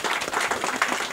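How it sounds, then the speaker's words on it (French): Applause from an audience at a French official ceremony honouring sub-prefects, a dense, steady patter of many hands clapping at moderate volume without a break. "Les applaudissements."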